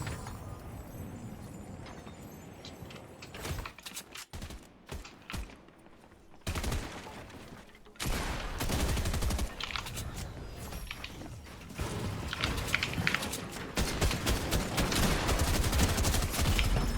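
Bursts of rapid gunfire from a video game, with sharp shots and mechanical clatter, growing denser and louder in the second half.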